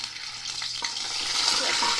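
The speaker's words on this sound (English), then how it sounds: "I'm just gonna start frying my chicken." Pre-cooked chicken pieces frying in hot oil, a steady hissing sizzle with a brief stir or shift of the pan partway through, close and continuous for a couple of seconds with no voices.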